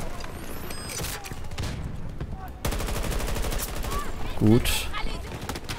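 Gunfire in Battlefield 2042: rapid automatic bursts rattle steadily through a dense battle, with a brief louder impact near the end, while someone speaks German over the shooting.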